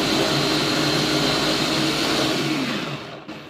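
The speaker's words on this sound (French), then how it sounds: "je vais mixer avec le gombo" A blender whirs steadily, mixing okra with onion for soupou kandia, a loud continuous motor drone that holds for about three seconds before winding down and cutting off.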